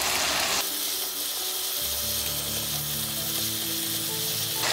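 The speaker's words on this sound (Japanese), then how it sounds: "炒める段階で入れてちょっと炒めますね。" Vegetables and miso stir-fry in a pot for pork miso soup, a loud, continuous sizzle with shifting tones as the ingredients are moved around, with no talking.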